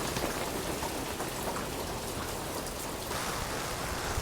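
Heavy typhoon rain in Kawagoe, Japan pours down steadily as a dense, loud hiss of drops striking surfaces, continuous from start to finish without any voices.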